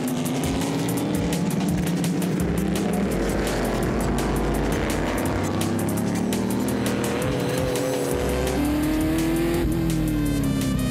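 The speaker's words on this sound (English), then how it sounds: "Great shots here of the Lola as he keeps the pressure on the GT40." A Lola and a Ford GT40 race car roar uphill in close pursuit, their engines loud and continuous, rising and falling with gear changes and revs while tires squeal faintly at times.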